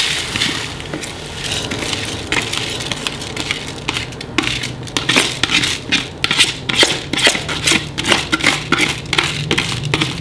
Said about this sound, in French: Je vais mettre mon riz.